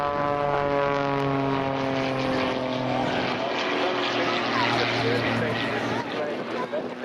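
A Pitts Special S2S aerobatic propeller plane performs at an air show in Portrush, its engine droning with a steady, fairly close buzzing tone that shifts in pitch as the aircraft manoeuvres, with a commentator talking over it.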